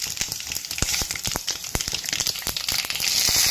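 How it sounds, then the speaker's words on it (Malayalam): Mustard seeds popping and spluttering in hot coconut oil while a curry tempering is prepared, a dense crackle of sharp pops over a steady sizzle, close and fairly loud with no talking. "കടുക് പൊട്ടിയിട്ടുണ്ട്, വേപ്പലയും പൊട്ടിക്കഴിഞ്ഞിട്ടുണ്ട്"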